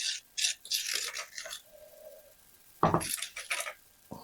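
Cardamom pods are crushed in a mortar with a pestle, giving short gritty scraping and grinding strokes in uneven clusters with quiet gaps between them, close and fairly soft.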